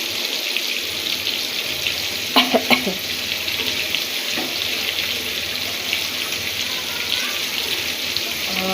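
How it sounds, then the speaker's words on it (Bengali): Prawns sizzle and fry steadily in a pan while being turned over, a continuous hiss with a few brief clinks of a utensil partway through. "সেগুলো আমি উল্টিয়ে পাল্টিয়ে দিচ্ছি যেন পুড়ে না যায়"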